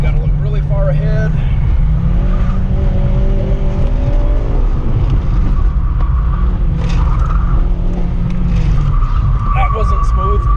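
Car tires squeal repeatedly through a sloppy, aggressive driving run, with a loud steady engine drone underneath and rising tonal screeches from the tires throughout.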